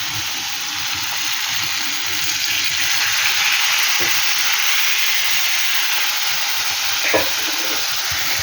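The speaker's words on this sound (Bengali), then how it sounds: "কাশ্মীরি লঙ্কার গুঁড়ো নাড়বো" Kashmiri chilli powder and turmeric stirred through spices frying in a pan, with a steady close sizzle and hiss throughout and a few soft scrapes of the spoon.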